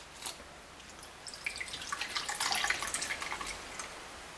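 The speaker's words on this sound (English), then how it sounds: "Fill our cap and put one capful of the" Mop concentrate for an Avalir hardwood floor mop pours into a small cap, a close, thin trickling stream that starts after a brief drip and grows steadily, with no talking.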